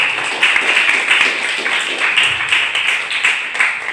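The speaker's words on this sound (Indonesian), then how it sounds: "Mari sama-sama kita beri tepukan aplaus untuk Pak Ismail." Audience applause at a school civic outreach event at a senior high school in Padang, a steady continuous patter of many hands clapping close by at even loudness throughout.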